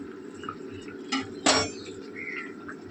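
A metal lid set down on a cooking pot of simmering lentil fritters in a home kitchen, giving a soft clink followed by a sharper, louder clatter as it settles, then quiet bubbling.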